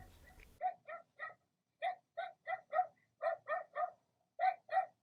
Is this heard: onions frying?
no